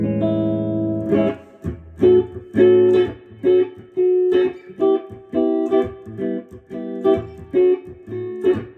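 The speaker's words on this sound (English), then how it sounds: "just the clean tone and nothing but the reverb right now." An electric guitar plays a clean tone with only reverb, strummed chords and single notes in a halting rhythm, each ringing out and decaying between strokes.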